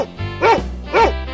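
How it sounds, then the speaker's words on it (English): A cartoon dog gives two loud, close barks about half a second apart, each short and bright, with no talking. "Dog."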